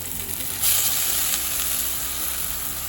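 Beans frying with spices in a pan, in a Bengali home kitchen cooking a tilapia fish curry with pea greens, give a steady, close sizzle that swells briefly, with faint stirring underneath and no talk.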